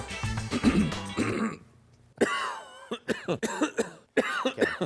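Repeated coughs and throat clearing from a person with a throat irritation, edited together in quick succession, loud and close, with brief gaps between bursts.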